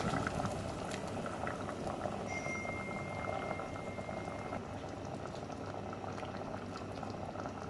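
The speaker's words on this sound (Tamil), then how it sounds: "எல்லாம் சேர்ந்து கொதிச்சு கட்டியாகட்டும்." A Chettinad crab masala gravy bubbles at a steady, continuous boil, a soft and even burbling that stays fairly quiet throughout with no voices.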